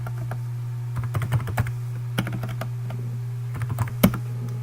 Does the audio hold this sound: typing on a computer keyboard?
yes